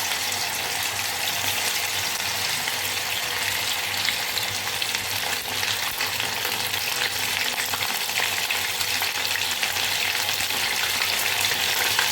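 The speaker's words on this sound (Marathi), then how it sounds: "आता आपल्याला याच्यामध्ये सोयाबीन सोडायचे आहे." Soya chunks deep-frying in hot oil in a pan, with a loud, steady, close sizzle and bubbling that runs unbroken throughout and no voices.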